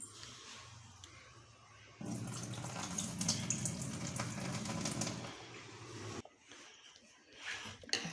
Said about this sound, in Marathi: ह्यात पाणी काढते मी